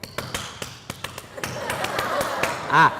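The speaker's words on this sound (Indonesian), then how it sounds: "Itu tepuk pramuka itu bos." A scout-style rhythmic hand clap (tepuk pramuka): a run of sharp, close claps in a quickening pattern, with a brief voice at the end.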